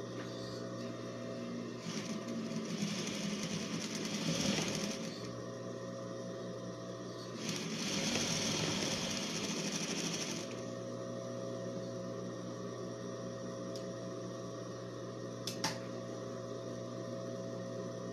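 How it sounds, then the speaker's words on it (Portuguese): An overlock sewing machine sews a sleeve onto a finished blouse, a steady low motor hum running throughout with two louder bursts of stitching in the middle, close and alone without talk. "faço overlock e vou pregar ela aqui, ó"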